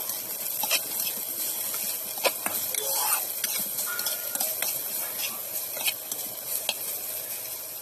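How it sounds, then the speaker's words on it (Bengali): Chopped onion, green chilli, garlic and ginger fry with cumin in oil, giving a soft steady sizzle and hiss with occasional light stirring clicks, fairly quiet and close. "পেঁয়াজ কুচি কাঁচা লঙ্কা কুচি একটু রসুন কুচি একটু আদা কুচি তো ভালো করে এটাকে ভেজে নেব"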